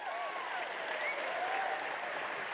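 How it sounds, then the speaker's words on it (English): Audience applause fills a room as a man is called forward on stage, steady clapping throughout with a faint whistle-like tone running over it. "Give him a round of applause."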